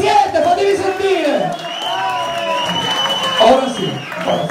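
A festival crowd at the Minchiarura Extreme Fest heavy metal show claps, whoops and cheers continuously at moderate distance, with shouting voices mixed into the noise.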